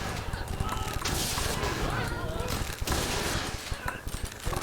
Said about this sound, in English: so he throw a blunderbuss salvo